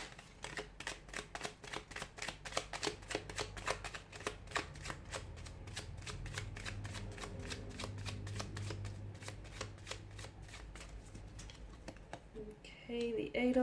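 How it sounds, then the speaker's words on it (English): Tarot cards being shuffled in a run of quick, crisp riffles and flicks close to the microphone, steady for several seconds with a faint low hum underneath. "give the cards a shuffle"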